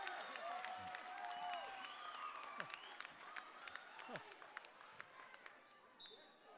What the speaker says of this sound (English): And the crowd goes wild on that one.